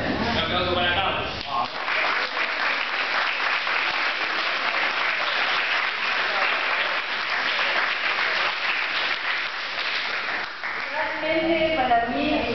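Warm applause for Carlos at an Armenian cultural centre, a steady round of clapping from the audience that swells after a brief voice at the start and tapers as speech returns near the end.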